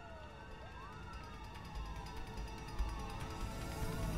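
A police siren in the video game A Way Out wails steadily over a constant rumbling background, its rising and falling tone sweeping across the whole stretch.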